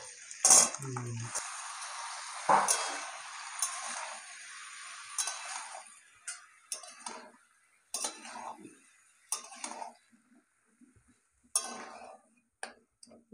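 Bottle gourd stirred in hot oil in a pan alongside fried potato and radish, a spatula clinking and scraping against the metal in scattered taps and knocks over a faint sizzle, fading toward sparse ticks.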